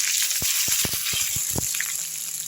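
Dried red chillies dropped into hot oil already popping with mustard seeds and cumin, tempering for an Andhra-style drumstick pappu; a steady loud sizzle with scattered sharp crackles and pops throughout.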